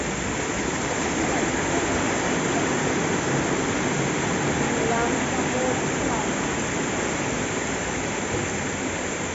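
Heavy rainwater rushes through the streets of Athens during a Christmas Eve storm, a dense, steady roar of flowing water that stays even and unbroken throughout.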